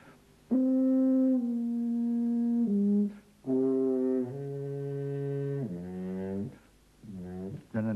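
Low, sustained French horn notes played one after another, each held then shifting down in pitch, with brief gaps between phrases.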